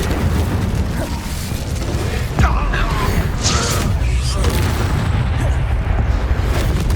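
Incendio fire spell cast in the Hogwarts Legacy video game, heard as a sudden booming burst of flame amid dense, continuous combat noise, with a few quieter whooshing bursts following.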